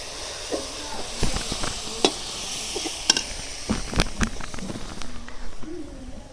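Onion and masala stirred in a pan for onion chicken karahi, with scattered scraping clicks of the spoon over a steady background hiss of frying.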